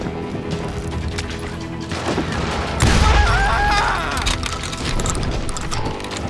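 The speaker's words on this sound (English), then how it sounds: "They're shooting in the street!" Street shootout in the Call of Juarez Gunslinger video game, with a loud burst of overlapping gunshots and crashing impacts around the middle, over a constant game backdrop.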